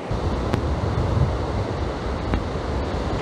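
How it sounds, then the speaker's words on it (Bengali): Rough sea waves surge at Chilika beach, a constant broad roar of surf mixed with wind buffeting the microphone, steady and close with no voices. "এখানকার ঢেউ একদম উত্তাল"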